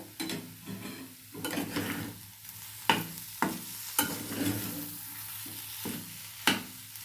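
A spoon stirs a potato mixture with sugar in a pan, producing soft sizzling under repeated scraping strokes and several sharper taps against the pan's side.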